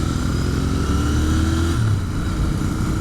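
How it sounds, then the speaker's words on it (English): Royal Enfield Continental GT 650 parallel-twin motorcycle idling and rolling in first gear, a loud, close, steady engine rumble with a slight rise in revs midway before settling back down. "in first gear, it's very smooth, and the engine, once you give it a little bit of gas, it sounds really nice"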